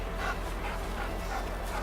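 A dog panting rapidly and steadily close by while playing with a dog frisbee, with quick rhythmic breaths continuing throughout.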